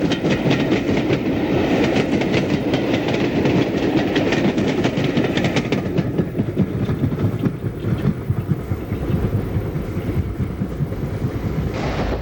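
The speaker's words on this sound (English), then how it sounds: "a Liverpool to Cardiff Express, hauled by Black 5 44683, heads towards Whitchurch" Black 5 steam locomotive 44683 hauling a Liverpool to Cardiff express near Whitchurch, a continuous heavy rolling roar with rhythmic clatter of wheels, loud and close with some wind buffeting.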